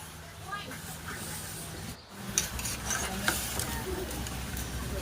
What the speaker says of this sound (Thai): น้ำเดือดแล้วนะคะ แม่เจใส่กุ้งลงไปเลยค่ะ